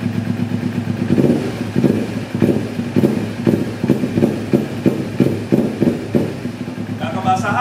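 A Kawasaki Ninja 250 R motorcycle engine idles with a steady, rhythmic pulsing chug close by, while someone talks over it.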